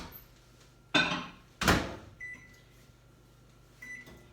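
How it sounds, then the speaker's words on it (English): Microwave oven heating a bowl of chocolate chips with about 1.5 tablespoons of butter: two sharp door clunks close together, then a faint hum and a couple of quiet electronic beeps, with no talking. "Pop this in the microwave 30 seconds at a time until it's melted."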